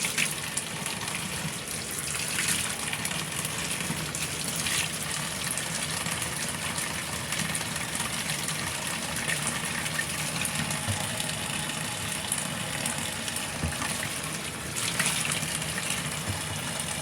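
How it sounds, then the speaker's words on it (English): Hot water gushing from a tap into a bucket with dish soap, a continuous rushing fill with a low engine-like hum underneath, steady and close for the whole stretch. "Put some water in it. Some warm water."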